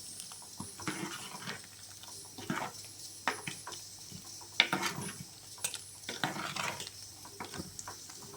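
A spoon stirs prawn curry ingredients with mango and ground coconut in a pot, making intermittent soft scrapes and wet clinks at an irregular rhythm, fairly quiet and close, with no talking.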